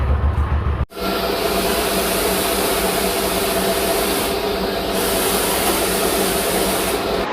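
A motorbike is sprayed down in a washing zone before ceramic coating, a loud, steady hiss of water jetting close by that starts abruptly after a brief pause and runs on without a break.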